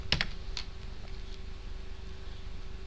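A few quick, light keystrokes on a computer keyboard while entering values in AutoCAD, close and faint, then mostly quiet with a steady low hum.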